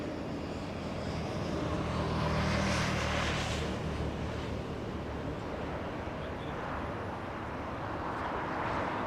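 A China Airlines Cargo airplane at Los Angeles International Airport gives a steady, broad engine roar that swells slightly and holds at a moderate distance throughout, with no talk over it.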